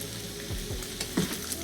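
Turkey sausage and a couple of hot wings cook down in a pot for charro beans, giving a brief, steady, moderate sizzle with a light stir and no speech.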